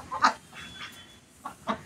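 Farmyard chickens kept for eggs give a few short clucks in separate bursts, moderately close, with quiet pauses and a faint steady tone in the background.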